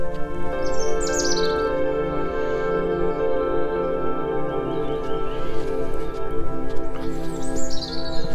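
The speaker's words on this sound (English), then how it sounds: "You can hear the birdsong, as I said before, very, very loudly." Birds sing and chirp steadily around All Saints' Church grounds in Carshalton in spring, bright repeated calls over a constant low hum of distant traffic or background noise, fairly loud and continuous.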